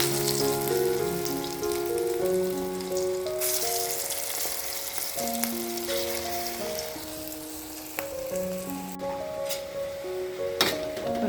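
Small lentil fritters (bora) frying in hot oil, a steady close sizzle and bubbling running throughout under background music.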